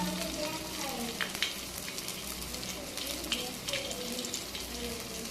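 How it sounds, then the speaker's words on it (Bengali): Water lily flower fritters, shaped into rounds, drop into hot oil in a wok and fry with a steady, moderately loud sizzle and bubbling that continues throughout. "এবারে কড়াইয়ে তেল গরম হয়ে গিয়েছে দিয়ে দিচ্ছি"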